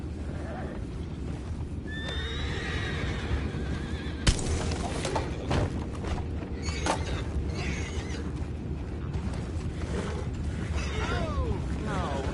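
Horses in the Red Dead Redemption 2 video game whinny several times, with hoof clops, mechanical clatter and creaks. At one point a sharp crash cuts through a busy, continuous mix of game sound.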